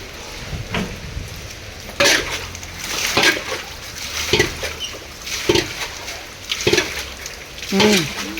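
Floodwater from heavy rain in Chennai splashes in repeated surges about every second, loud and close, with occasional clucking birds in the background.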